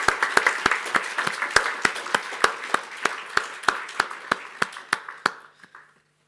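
An audience at an academic cryptography conference claps for prize winners, a thin scattering of distinct hand claps in a loose rhythm that thins out and stops near the end.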